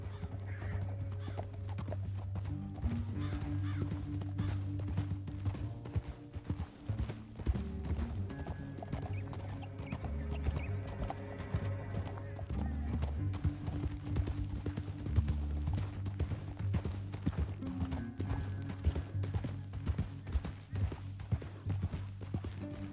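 Hooves clip-clop in a steady trotting rhythm with occasional whinnies over a low musical drone, a continuous scene from Red Dead Redemption 2 without talk.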